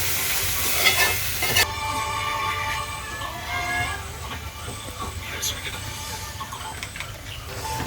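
Mango curry stirred in a pan, with repeated scraping and sizzling strokes heard close by. A loud burst opens the clip, and faint background sounds and voices run underneath.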